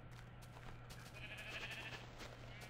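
A sheep in the video game Minecraft lets out a single faint, drawn-out bleat over a low, steady background hum.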